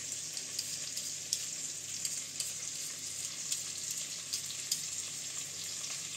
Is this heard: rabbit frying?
yes